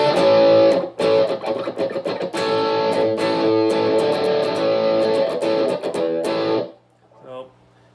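Electric guitar played through a GOAT Blue Series pedal on its edge channel, loud driven chords with a slightly distorted classic rock tone, ringing for several seconds before cutting off, followed by a brief quiet strum.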